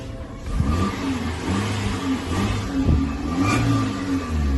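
A used automatic-transmission car engine, keyless-remote equipped, starts and settles into a smooth, steady running note, fairly loud and continuous with a low rumble and no voices.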